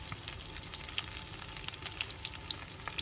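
Vietnamese spring rolls (nem) deep-fry in hot oil, a steady bubbling sizzle with scattered sharp crackles and pops, close and continuous with no talk.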